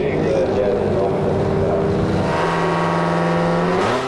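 Nitrous-equipped drag car launching hard down the strip after arming two nitrous stages, a loud sustained engine roar climbing in pitch as it pulls away, continuous and close throughout.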